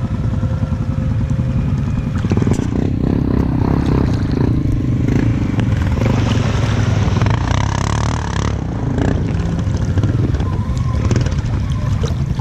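Motorcycle engine running loud and steady by a sandy pond, a continuous rough roar with wind and splashing texture mixed in, close to the listener and heard on its own.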